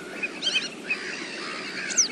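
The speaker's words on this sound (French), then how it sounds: "C'est le chevalier sylvain." Wood sandpiper calling, a few short high chirping notes scattered over a soft, steady outdoor background hiss, fairly distant.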